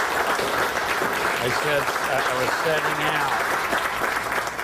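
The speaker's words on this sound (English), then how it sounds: "Please help me welcome him by giving him a warm round of applause." An audience claps steadily in a warm round of applause welcoming Kim Peek on stage, a dense even patter throughout, while someone talks over it.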